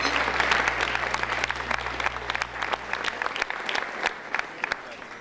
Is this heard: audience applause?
yes